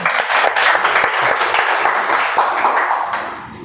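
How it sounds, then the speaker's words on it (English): Audience at a Toastmasters club meeting breaks into sustained applause, dense steady clapping from a roomful of people close by, fading slightly at the end. "Let's have a big round of applause for them."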